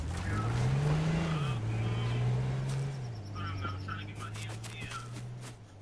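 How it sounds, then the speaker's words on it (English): Jeep engine in a video game revving and droning under a player's talk, pitch rising and dipping as it drives, settling into a steady lower hum. "He jumped in the Jeep."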